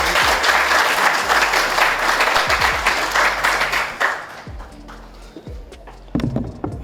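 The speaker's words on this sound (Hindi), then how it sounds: "आप सबकी भरपूर तालियों में मैं दावत दूंगा यासिर शामी को।" An audience claps loudly in welcome for a guest at an interview show, dense steady applause that tapers off into a few scattered claps before a short final burst.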